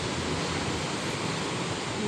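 Water flowing beneath a bridge, a dense, steady rushing wash of broadband noise that stays constant and close throughout, with no voices.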